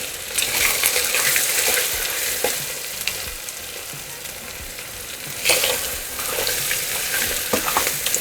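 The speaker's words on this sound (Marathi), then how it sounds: "थोडंसं तिखट पुन्हा भाजायचं आपल्याला" Red chili powder and turmeric roast in hot oil for masale bhat, giving a continuous close sizzle with stirring scrapes that swell louder partway through.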